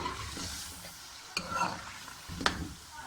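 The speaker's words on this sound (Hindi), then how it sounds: "तो मैं आलू की अच्छी से भुनाई करूँगी" Potatoes fry and get stirred in a pot, a close, steady sizzle broken by two sharp scraping clacks of the spoon against the pot, with no talking.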